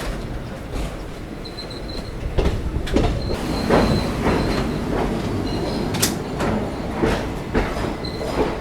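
Chennai Egmore–Mumbai CSMT superfast express 22158 running steadily, with a continuous broadband rumble of wheels on rail, repeated clacks and a few brief high squeals over the constant noise of the moving train.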